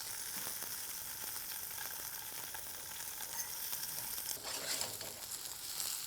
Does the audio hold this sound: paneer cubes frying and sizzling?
yes